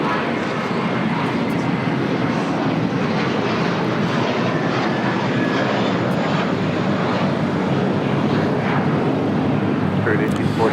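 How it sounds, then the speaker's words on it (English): An American Airlines Airbus A321 jet takes off at LAX, bound for Dallas Fort Worth, with a loud, steady, broadband engine roar that holds at an even level the whole time. "This is American Airlines 2746 taking off to Dallas Fort Worth on an A321"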